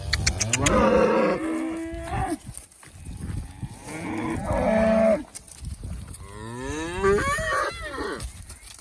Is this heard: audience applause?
no